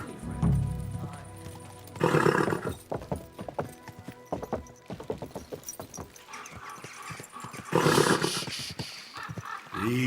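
Horse hooves clip-clop in a steady rhythm in the medieval video game Kingdom Come: Deliverance 2, close and fairly loud, with snorts and game voices talking over them.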